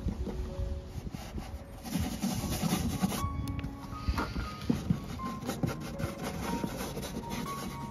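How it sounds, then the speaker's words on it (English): Steady scratchy rubbing of sandpaper on a vintage oak buffet, continuous and close, with a few faint knocks along the way. "And then do some sanding."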